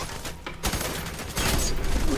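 Gunfire in the first-person shooter video game F.E.A.R. 3: a dense, loud burst of shots and impacts filling the short moment, with no talk over it.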